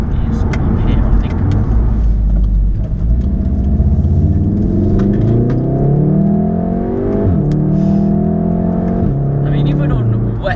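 A Volkswagen Golf R accelerates hard on a wet road, its engine note climbing through the gears with audible upshifts and a steady hiss of tires and road noise underneath, heard from inside the car while someone talks.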